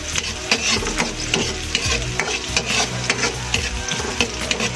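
Onions sautéing in hot oil for a Filipino sardine and udon noodle stir-fry, a steady loud sizzle with repeated scraping stirs and clinks of a utensil against the pan, no talking.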